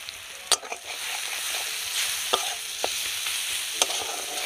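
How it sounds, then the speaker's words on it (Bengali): Dried chilli paste, turmeric and coriander powder sizzle and crackle in a hot kadai while a spoon stirs, giving a few sharp scrapes and clinks over the steady frying hiss. "মশলাটা একটু হালকা ভেজে নেবো"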